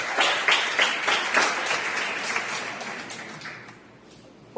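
A church congregation applauds during a service, a loud, dense wash of many hands clapping that swells and then fades toward the end.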